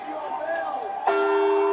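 A bell tolls in the Garry's Mod video game, a single strike ringing out and sustaining after a short stretch of muffled voices.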